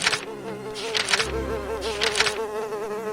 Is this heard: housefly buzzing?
yes